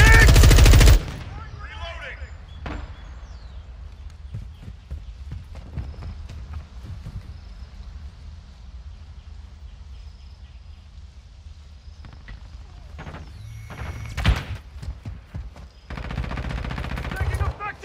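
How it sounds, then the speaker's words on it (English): Call of Duty: Modern Warfare 2 gunfire, a loud burst at the start, then scattered quieter shots and rattles over a low background, with further louder bursts near the end and a voice speaking briefly. "Taking effective fire."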